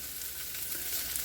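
Meat drippings sizzle steadily in a hot pan as they are stirred, a continuous bright crackling hiss that holds at an even level throughout, with no voices.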